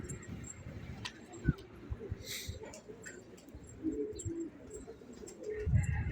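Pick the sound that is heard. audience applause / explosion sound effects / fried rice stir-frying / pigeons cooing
pigeons cooing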